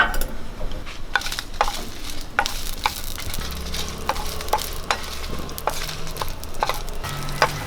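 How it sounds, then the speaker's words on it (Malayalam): Red chilies and shallots fry in coconut oil in a pan, a continuous crackling sizzle broken by repeated sharp scrapes and clicks of a stirring spoon, with no one talking. "നമുക്കൊരു അഞ്ചാറ് മുളക് ഇട്ട് കൊടുക്കാം അഞ്ചാറ് ചുവന്നുള്ളിയോടെ ഇത് നമുക്കൊന്ന് വറുത്തെടുക്കാം"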